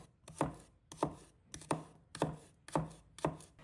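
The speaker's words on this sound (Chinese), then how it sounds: "再准备几个大蒜， 把它切成小块。" A knife chopping garlic into small pieces on a board, six evenly spaced firm cuts in a steady rhythm, close and distinct with no talking.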